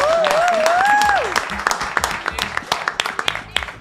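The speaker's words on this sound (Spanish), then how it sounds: "a quien vamos a recibir con un fuerte aplauso" A studio audience applauds to welcome a guest onto a talk show, dense clapping that rises under a whistle and then thins into scattered claps.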